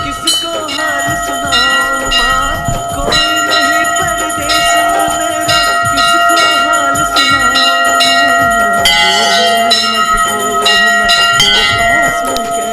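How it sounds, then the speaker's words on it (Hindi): Temple bells ringing in the wind at Badrinath temple, a dense, continuous metallic clanging and chiming with overlapping strikes, loud and close throughout. "जब हवा चलती है तो ये घंटियाँ स्वयं ही बजने लगती हैं।"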